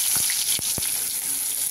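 Chopped tomatoes go into a pan of hot oil with frying onions and nigella seeds, giving a steady close sizzle with a few soft clicks and splashes.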